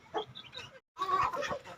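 Chicks cluck softly in short, close bursts, with two brief clusters of chirpy clucking separated by a moment of quiet.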